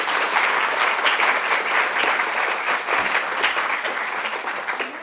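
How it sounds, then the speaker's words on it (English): Steady applause fills an awards ceremony hall, a moderate crowd clapping continuously throughout with no voices over it. "So a round of applause for Jane"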